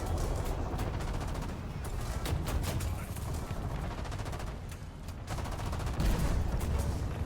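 Tank machine gun fire in War Thunder, rapid bursts of rattling shots over a constant low rumble of engine and battle noise, with a brief lull before firing resumes loudly.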